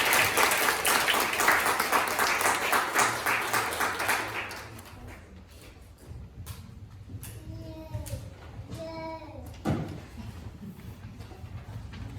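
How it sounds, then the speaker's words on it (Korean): Church congregation at a Korean church retreat in Glasgow applauds loudly and steadily for about four seconds, then the clapping fades, leaving a quiet room with brief voices and a few knocks. "우리 큰 박수로 맞이하도록 하겠습니다"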